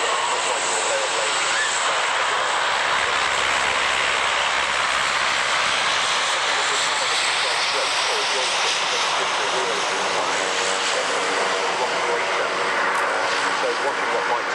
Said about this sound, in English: So watching what Mike's actually doing at the moment, it's quite astounding when you understand the principle behind airships